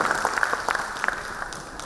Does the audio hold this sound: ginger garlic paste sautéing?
no